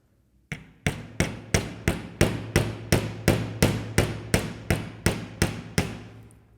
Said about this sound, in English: all you want to do is hammer this center piece to spread it.